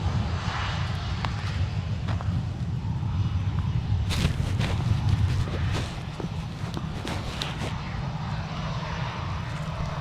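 A jet airliner taxis at Minneapolis-St. Paul airport toward runway 17 with a continuous engine rumble and roar, moderately loud and steady, with a few sharp clicks and knocks mixed in.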